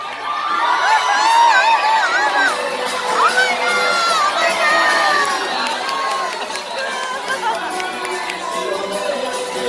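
A fairground crowd of children and adults cheers and shouts loudly at a barnyard animal race at a county fair winter festival, a continuous close roar of whoops and yells with voices throughout.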